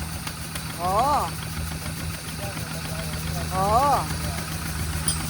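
The engine of a farm vehicle idles on a farm in the Netherlands, with a steady, loud, low rumble running throughout, while a man twice makes short exclamations over it.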